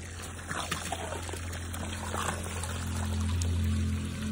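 Water pours and trickles in a steady stream on a farm in the early morning, close and fairly quiet. A low engine-like hum swells toward the end.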